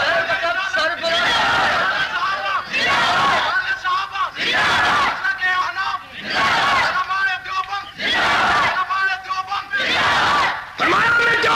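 A large crowd at a Deobandi religious gathering loudly chants slogans in response to a leader, in repeated rhythmic bursts of massed voices with short gaps between them.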